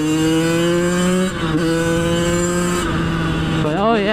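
Two-stroke dirt bike engine idling steadily and loud, then stumbling and bogging as it revs unevenly near the end, with strong harmonic drone throughout and a brief dip partway.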